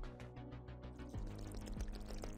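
Fuel glugs from a canister in the horror video game Ice Scream, a rhythmic gurgling pour with repeated bubbling glugs that thickens midway, fairly faint and with no talk over it.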